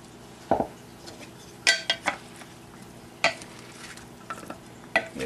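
A spoon stirs cheese into shrimp scampi in a pan off the heat, with several sharp, irregular clinks and scrapes of utensil against metal over a faint background; no talking.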